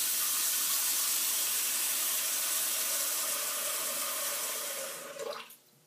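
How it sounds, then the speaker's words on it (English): Tap water pours steadily into a clogged bathroom sink, a loud, even rushing hiss that runs for several seconds before the flow is shut off and fades to a few trickles and drips. "we'll fill up our sink with water"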